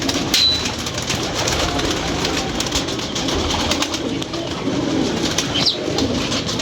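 Pigeons coo nearby in a loft in Lahore, soft repeated throaty calls over a steady rustling background, with a couple of sharper bird chirps.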